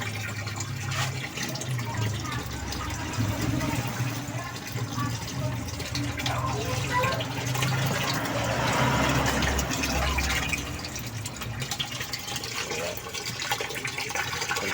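Tap water pouring steadily into the tub of a Dowell washing machine, a continuous splashing gush, close and constant for about fifteen seconds, with faint talk at times.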